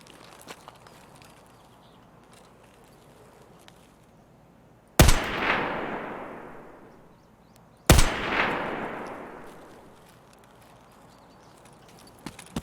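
Two loud gunshots in Escape from Tarkov, each a sharp crack with a long echoing tail fading over a couple of seconds, spaced about three seconds apart over faint background noise.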